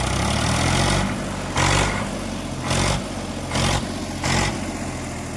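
A farm tractor engine idles steadily at a low rumble, with several brief bursts of louder noise at regular intervals and no talking.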